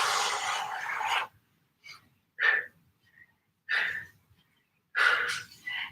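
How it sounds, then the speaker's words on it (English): Heavy breathing from someone working out during a low-impact resistance band exercise session: four or five loud, close, breathy exhalations in an uneven rhythm, separated by short silences. "Heavy breathing."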